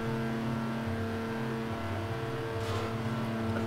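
A race car in a Garry's Mod co-op race with FNAF animatronic drivers hums with a steady engine drone and shifting pitch, continuous and fairly close, with no voices over it.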